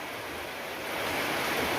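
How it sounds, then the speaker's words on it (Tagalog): A dense, loud roar of heavy rain pours down without pause, swelling slightly in the second half. "Lakas ng ulan mga kaibigan, oh."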